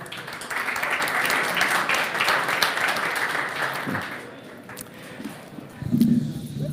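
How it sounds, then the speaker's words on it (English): An audience at a panel discussion on the Facebook Libra token applauds a speaker's introduction, a broad burst of clapping that thins out midway, with a voice speaking briefly near the end. "Warm applause for Peter Grooskopf"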